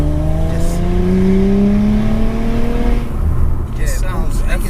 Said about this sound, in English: If we go up high revs, so we're in high gear, and then listen to it